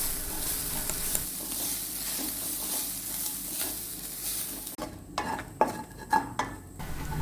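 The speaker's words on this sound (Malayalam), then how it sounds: "അപ്പോൾ ഈ തേങ്ങയും ഉള്ളിയും കൂടി ഇട്ട് നമുക്ക് നന്നായിട്ടൊന്ന് വറുത്തെടുക്കാം." Grated coconut and onion sizzle and fry in a pan for a chutney-powder dish, with steady frying hiss and clattering spoon stirring strokes near the end.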